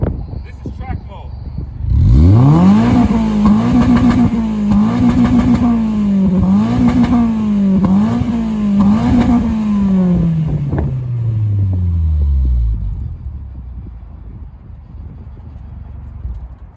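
A Toyota GR86 with a GR cat-back dual exhaust in track mode, idling, then revved hard several times in a row, each rev rising and falling loudly up close before settling back to a rumbling idle.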